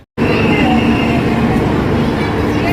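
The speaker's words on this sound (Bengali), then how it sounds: "ফাইনালি ট্রেন আসলো।" The Himgiri Express arriving at Jammu station fills the air with a loud, steady rumble and hum of rolling carriages, close by and continuous after a brief silent start, with a voice mixed in.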